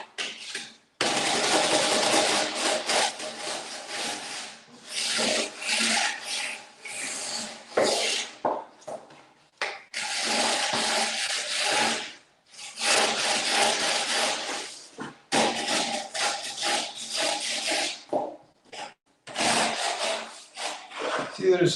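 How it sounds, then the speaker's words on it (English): Drywall sheets being shaved down to take off small bumps, with long broadband rasping scrapes in repeated bursts separated by brief pauses, close and loud. "there's these little bumps right here every now and then, so you got to shave them off"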